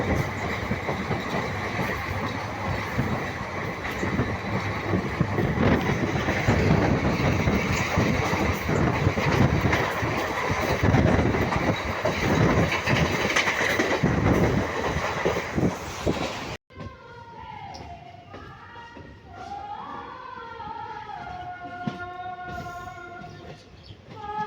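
The 15968 Rangiya Express rolls at high speed with a loud, continuous rumble and rattle of wheels and carriages, heard from inside the train, before cutting to a quieter stretch with faint voices and tonal sounds.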